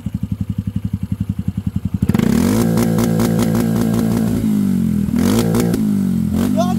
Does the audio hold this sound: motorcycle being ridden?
yes